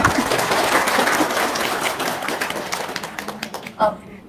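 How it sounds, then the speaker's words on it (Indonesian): An audience at a talk bursts into loud, dense applause that gradually thins into scattered claps and taps near the end, with voices faintly underneath. "Tepuk tangan dong"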